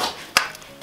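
A blade chops once through Isover wall insulation during a house renovation, a single short dull cut that is close and brief, with soft rustling around it.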